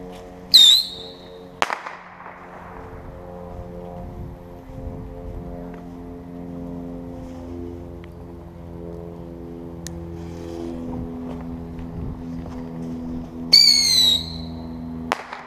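Blue and black screamer firecrackers each give off a shrill rising whistle followed by a sharp bang, one near the start and another near the end, with quiet outdoor background between.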